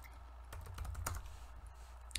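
Rapid typing on a computer keyboard while writing C# code, a quick run of close, crisp key clicks alone.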